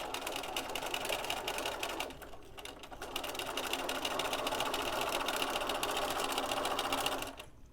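A sewing machine stitching a zippered head cover runs in a fast continuous whirring chatter, nearby and steady, with a brief slowdown partway through before resuming at full speed and stopping at the end.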